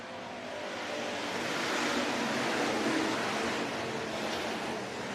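Hobby stock race cars roar back to speed on a restart at Worthington Speedway, a dense, rising engine wash that swells toward the middle and holds loud as the pack passes.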